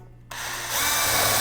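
A power drill pre-drills a pilot hole in wood for a rustic Christmas tree project: a short quiet lead-in, then the motor spins up and the bit bites in, the whine climbing and holding steady and close.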